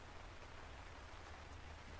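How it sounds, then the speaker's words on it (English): Heavy rain pours steadily outside a gothic mansion in an indie horror video game, a dense, continuous hiss of downpour with no pauses, faint and distant-sounding throughout. "The only sounds I pick up are the heavy drums of rain from outside"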